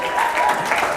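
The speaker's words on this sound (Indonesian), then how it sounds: "Tepuk tangan dong buat Pak Ali dong ya" Dense applause from the audience at a school videography seminar, held steady and loud for a brief moment, with a voice faintly audible underneath.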